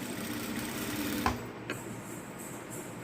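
A sewing machine stitching a sleeve onto a garment body runs in a close, steady whirring rattle, broken by a few short clicks and pauses as the fabric is moved.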